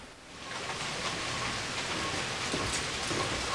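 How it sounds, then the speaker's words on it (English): Steady rain falls outside in a dense, continuous hiss of drops on surfaces, close and even throughout, with no voices. "It's raining outside"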